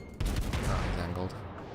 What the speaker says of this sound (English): he himself knows to fire a AP right back at me